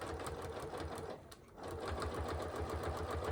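Sewing machine fitted with a walking foot, stitching along a line through layered pot holder fabric; a steady, close mechanical whir with a rapid stitch rhythm runs throughout, easing briefly midway before resuming at full speed.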